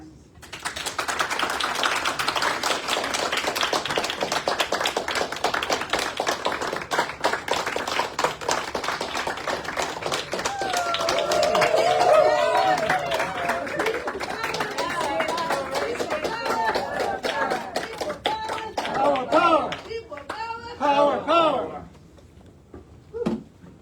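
Sustained applause from an audience at a Harvard address welcoming a Ugandan speaker, a dense wash of many clapping hands, loud and continuous, thinning out near the end, with some voices mixed in.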